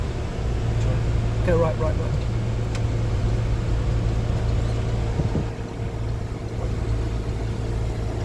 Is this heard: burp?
no